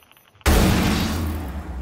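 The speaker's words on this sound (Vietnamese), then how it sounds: "Cho nó nổ hết mấy cái này đi." An explosive charge detonates in Rainbow Six Siege after an EMP is thrown, a sudden loud blast after near silence that settles into a long, rumbling roar.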